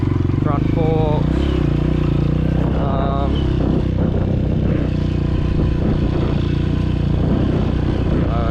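A small used motorcycle in need of front fork and engine work runs with a steady, loud engine drone and some mechanical clatter, while someone talks over it throughout.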